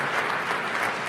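A live audience claps steadily at a ministerial ceremony in Kigali, Rwanda, as the Rwanda–Niger ICT memorandum of understanding is signed, the dense applause holding even throughout.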